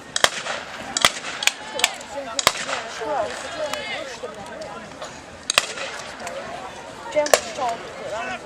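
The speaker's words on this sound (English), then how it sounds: "US soldier there using a light machine gun" Sharp, isolated gunshot cracks from a US soldier's late-model Tommy gun light machine gun ring out in old wartime footage, irregularly spaced, under continuous talk.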